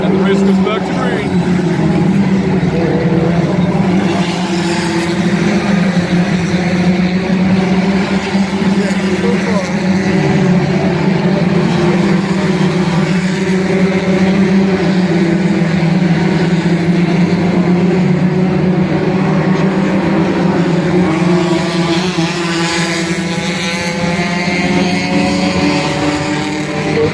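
Mazda Miata race cars in a Canada Cup race at Toronto, their engines droning steadily and loudly throughout under continuous commentary.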